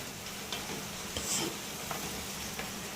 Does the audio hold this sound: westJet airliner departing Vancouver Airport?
no